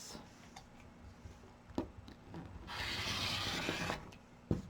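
Rotary cutter slicing fabric scraps into 3-inch strips along a ruler, heard as a soft scraping rasp with a few sharp ticks and clicks, close and fairly quiet, with no talking.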